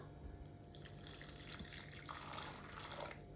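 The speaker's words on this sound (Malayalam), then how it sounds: "ഇനി ഇതിലോട്ട് ഞാൻ കുറച്ചുകൂടെ ചൂടുവെള്ളം ഒഴിക്കുന്നുണ്ട്" Hot water is poured into a taro curry in a pot, making a faint, steady splashing trickle close by that lasts for a few seconds without any talking.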